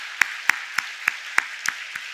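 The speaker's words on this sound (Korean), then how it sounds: "우리 그럴 수 있도록 서로 같이 박수로 한번 격려해 주실까요?" Church gathering at a Friday late-night prayer service, with about seven crisp, evenly spaced handclaps sounding close and distinct against near silence.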